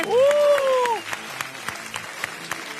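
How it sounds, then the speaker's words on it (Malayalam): A studio audience on a television show floor applauds two competing teams, opening with a bright whooping cheer over the clapping before it settles into a softer, steady patter with scattered sharp claps. "ഒരു കൈയടി കൊടുത്തേ"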